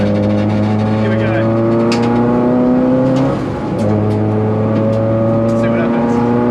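Race car in a video game pushing a fast lap, a steady loud engine drone with rising and shifting gear tones and a brief dip mid-lap, with voice chatter throughout.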